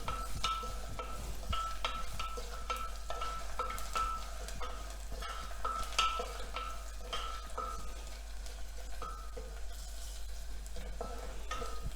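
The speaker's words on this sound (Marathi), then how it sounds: "आता गॅसची फ्लेम आपण बारीक करायची आणि भरपूर लसूण टाकायचं आहे लसूण पण छान खमंग भाजून घ्यायचं आहे" Plenty of finely chopped garlic roasting in oil in a pan over a low gas flame, a steady close sizzle with repeated scraping and stirring clicks running throughout.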